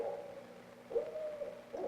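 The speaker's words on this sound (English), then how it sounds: "a barred owl started calling" A barred owl hoots at night by a river bank in the Ozark forest, a few clear, mid-distance hooting calls in short rhythmic phrases over quiet background.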